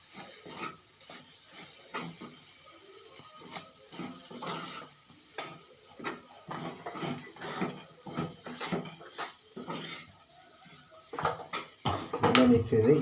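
Fennel and masala powder being stirred in a cooking pan, with repeated scraping and clinking strokes and a light sizzle, close by, while a voice talks intermittently over it.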